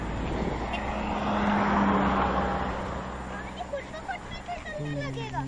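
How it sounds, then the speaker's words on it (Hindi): A car rolling backwards in neutral down a slope at Wadi e Jin makes a broad, swelling rumble that fades slightly, while voices talk nearby. "ये गाड़ी भी वापस जा रही थी।"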